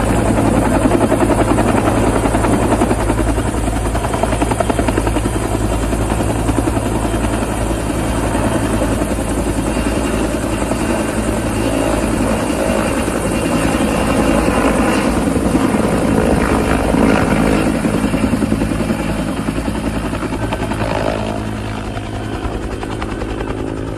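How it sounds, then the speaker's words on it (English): A helicopter hovers close and loud while lifting HVAC units off a building, its rotor drone steady and continuous throughout with a dense broadband roar. "this is a video of a helicopter removing HVAC units"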